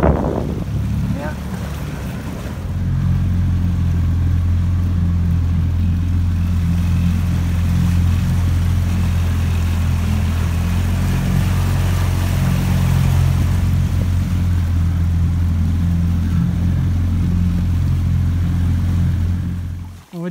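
A Mercury outboard motor on an inflatable boat runs in shallow drive, a steady low droning hum with wind buffeting the microphone, close and continuous for about twenty seconds before cutting off abruptly.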